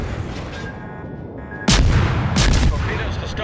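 Naval artillery shells firing in a video game, heavy booming blasts that hit suddenly and sustain for about a second, loud and close over a continuous rumbling battle din, with someone talking.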